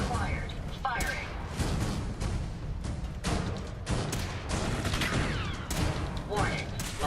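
Turret gunfire from the video game Fallout 4, a dense fusillade of rapid shots and thuds that runs the full stretch, loud and close, with a synthetic voice talking over it.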